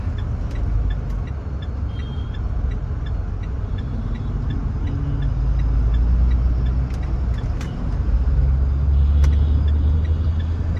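Morning road traffic crowds around a Pajero Sport 4x4 SUV on a busy street packed with two-wheelers: a steady, loud low rumble of engines with passing vehicles, brief higher hisses like air brakes, and no talking.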